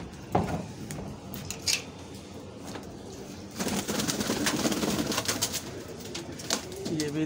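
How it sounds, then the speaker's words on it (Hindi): Pet pigeons in a netted enclosure coo softly and repeatedly nearby, with occasional clinks and rustles, and a denser stretch of cooing toward the end. "ये अपने उड़ने वाले परिंदों के जाल हैं।"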